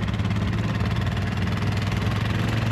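A Kawasaki Brute Force ATV with an old carburetor, loaded with gear, idles steadily: a continuous low, throbbing engine rumble, close and even throughout, with no voices.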